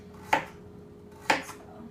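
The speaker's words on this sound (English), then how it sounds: "you can also cut them into little half circles" Kitchen knife slicing vegetables into small half circles on a cutting board, two distinct crisp chops about a second apart, close and otherwise quiet.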